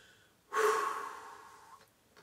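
A trumpet player blows out a long forceful breath to empty the lungs, a single close breathy exhale that starts abruptly and fades over about a second, alone in a quiet room.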